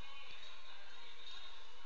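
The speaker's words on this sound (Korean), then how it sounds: "지금은 카페 소음입니다." Cafe background noise, captured through a SteelSeries Arctis Nova Pro Wireless for Xbox headset microphone, forms a steady, dense hiss of ambient clatter and indistinct murmur, continuous from start to finish with no clear voice.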